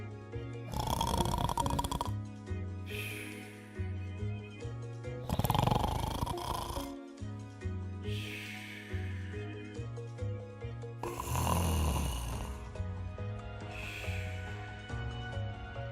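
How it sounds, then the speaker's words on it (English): Slow, heavy snoring rises and falls in regular breaths, each snore a rumbling swell, set against soft background music. "And the Gruffalo snored and snored and snored"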